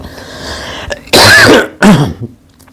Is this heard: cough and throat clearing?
yes